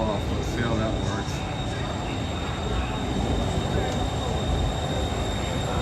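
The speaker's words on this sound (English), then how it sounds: "Here comes our train." Train pulling into a station in Bangkok, a loud sustained rumble with rail noise and a steady high whine, heard close on the platform without talk.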